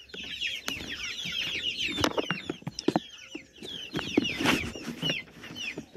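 Hens cluck continuously in a coop, their calls mixed with rapid high chirping from small chicks, busy and close, with a few brief scuffling thumps.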